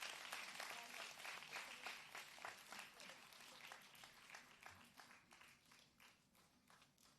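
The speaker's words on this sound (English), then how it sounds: "A big round of applause" A seated audience claps together at a Kathak dance recital debut. The crowded applause is quiet and distant and fades slightly toward the end.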